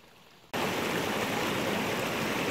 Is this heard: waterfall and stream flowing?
yes